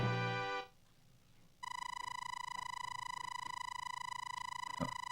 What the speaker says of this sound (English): I feel like I heard a notification, but I don't see it.